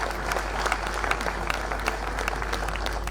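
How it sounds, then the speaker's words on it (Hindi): A hall full of people at an advocates' silver jubilee honour ceremony breaks into loud, steady applause, dense clapping sustained throughout with no voice on top. "तो इसके लिए तो जोरदार ताली बजा दीजिए भाई।"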